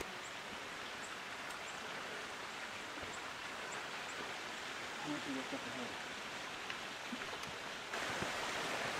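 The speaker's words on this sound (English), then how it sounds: "That'd be Vivian Creek." Vivian Creek, a mountain stream high on San Gorgonio, rushes steadily as a broad, continuous wash of water noise with no voices, holding an even level throughout.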